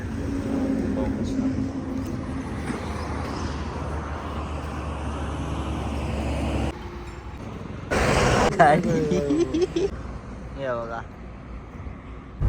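Steady low road rumble from inside a car being towed by a crane, continuous and fairly loud, with a brief change in the noise partway through and people talking over it.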